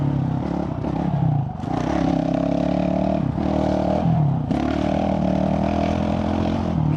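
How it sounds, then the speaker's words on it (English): A Honda CRF450RL dirt bike with a Stage 2.0 tune rides on a dirt track, its four-stroke engine loud and close as it revs up and down through gear changes with brief throttle dips. "I'm going to be quiet now so you can listen to the bike"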